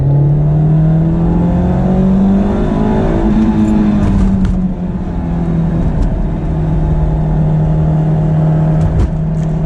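A Honda S2000 sports car engine revs hard through a turn toward 8,000–9,000 rpm, a loud, close, continuous high-pitched wail that rises and shifts as the car works the corner, with no talk over it.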